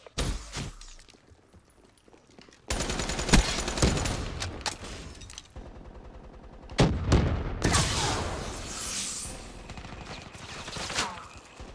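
Video game gunfire in Call of Duty Ground War: dense bursts of automatic rifle fire and heavier shots, loud and close, in rapid volleys broken by brief lulls.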